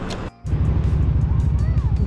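A Motorstar Xplorer GPR 250 motorcycle engine drones steadily at close range with a low pulsing note, briefly cut out near the start, then running evenly under wind noise.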